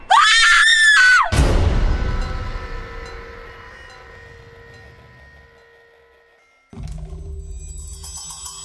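Sharp, panicked scream from a woman, loud and close for about a second, followed by a crash and a long ringing, fading metallic drone like a passing train before a new low tone begins.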